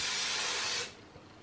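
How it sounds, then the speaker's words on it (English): Hairspray hisses in one continuous burst from an aerosol can onto hair, loud and close, then cuts off abruptly, leaving quiet room tone. "I'll just do the old spray it up"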